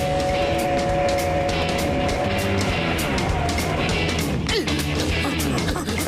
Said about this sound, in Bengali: ড্রাইভার শিগগিরই ট্রেন থামাও